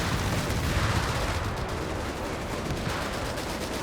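Strafing-run gunfire in Company of Heroes 3 during a 4v4 match: dense, continuous rattling bursts of automatic fire, loud and sustained throughout, with no voices.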